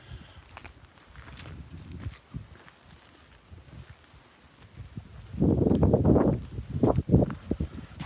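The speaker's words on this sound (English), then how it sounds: "Apologies for the wind, it's horrendous." Gusts of wind buffet the microphone in loud, rumbling bursts, rising strongly in the second half over quieter rustling outdoors.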